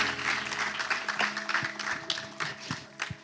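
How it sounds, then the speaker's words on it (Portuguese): A congregation at a church gathering applauds, a sustained wash of clapping from a crowd with a low droning hum beneath it and occasional louder claps close by. "Dê uma salva de palmas às pessoas que acabaram de receber Jesus Cristo na sua vida"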